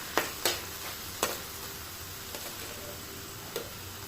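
Vegetable curry with vadas cooking in a pan: a faint steady simmer with a few sharp spoon clinks and scrapes against the pan, spaced irregularly, close by.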